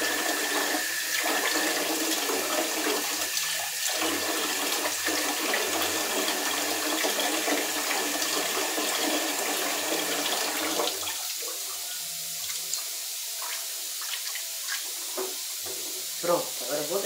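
Tap water runs steadily in a home kitchen while cooking, a continuous hiss that cuts off partway through, followed by quieter clatter and faint room sounds.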